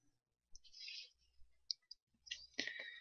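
A few sharp, quiet computer mouse clicks, close by, with faint soft handling noises between them, isolated clicks rather than a rapid series.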